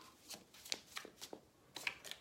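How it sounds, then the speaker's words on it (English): Tarot cards shuffled by hand in a run of quick riffling bursts, close and fairly quiet, with no talking. "I'm just compelled to really shuffle these cards some more for you guys."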